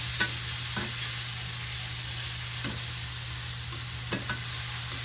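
Tofu cooks in a pan with a constant airy sizzle over a low hum, while a few soft spatula strokes scrape through at spaced intervals.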